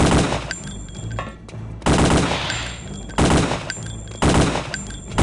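Loud bursts of automatic gunfire in the Return to Castle Wolfenstein video game, four heavy sustained volleys with brief gaps between them, close and dominant.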